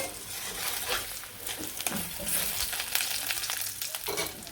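Cumin and vegetables fry in a pan in a village kitchen, a steady close sizzle with occasional stirring scrapes and no voices.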